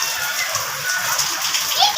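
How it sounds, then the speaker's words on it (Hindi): Rainwater drips and splashes down into a house courtyard during a downpour, a dense steady patter close by, with children's voices chattering underneath. "सहन से ये देखिए यहाँ से भी बारिश आ रही है। नीचे आ रहा है पानी सारा।"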